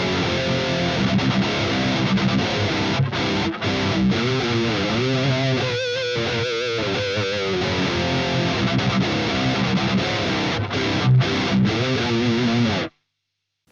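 Heavily distorted electric guitar chugs through a dark, chromatic verse riff, leaning on the flatted fifth. It plays loud and continuous with no talk, then cuts off abruptly near the end.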